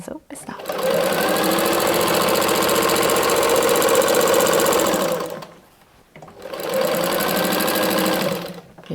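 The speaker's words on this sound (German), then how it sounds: "Und wir nähen einmal den Binding-Anfang fest, bis zum Anfangspunkt der ersten Naht." Sewing machine stitching down the start of the binding on a fabric origami advent calendar, a loud steady close whirr for several seconds, a brief pause, then another burst of stitching.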